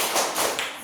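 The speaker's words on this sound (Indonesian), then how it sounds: "Tepuk simbol Pancasila." Children clapping out a Pancasila symbol clap chant in a grade 4 Indonesian classroom, three quick hand claps in an even rhythm, close and fairly loud with no voices.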